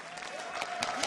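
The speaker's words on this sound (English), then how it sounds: "You can clap for that." Brief burst of audience applause at a League of Legends Worlds 2012 esports match, a dense crowd clapping steadily for about a second.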